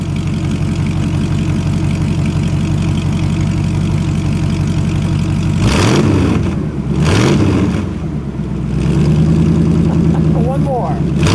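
A 1968 MGB fitted with an American V8 idles with a steady low rumble, then gets two sharp throttle blips that swell and fall back to idle, with people talking nearby.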